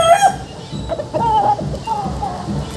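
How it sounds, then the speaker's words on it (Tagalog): A large grey rooster gives a series of short clucks and throaty calls close by, with a few louder squawks over faint background noise. "Napakalaking manok mga bossing idol"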